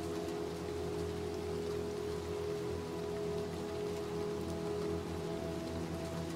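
Rain falls outside in the video game Little Nightmares 2, a steady wash of drops over a low, constant ambient hum, with no voices.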